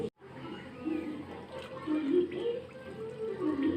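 Two cups of water poured into a bowl of cornflour while making halwa, a steady splashing liquid pour that runs for a few seconds, close and moderately loud, with no talk.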